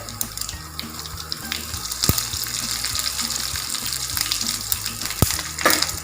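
Red chili and curry leaves spluttering in hot oil for Kerala cabbage thoran, a close, steady sizzle broken by sharp crackling pops, louder bursts near the middle and end.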